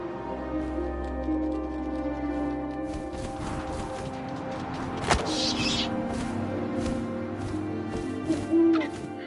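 An owl hoots in What Remains of Edith Finch, low calls set against windy ambience and a soft musical drone, with a few sharper thumps partway through.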